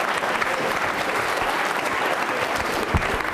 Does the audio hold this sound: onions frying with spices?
no